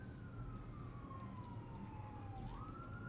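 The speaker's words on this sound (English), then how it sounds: "But there's some sirens going off," Sirens wail faintly from somewhere outside, a single long tone sliding slowly downward and then back up, heard distantly beneath a steady background hum.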